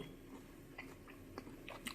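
Quiet, crisp crunching bites of an air-fried chicken wing, a few sharp crackles spaced out over a couple of seconds with soft chewing between them.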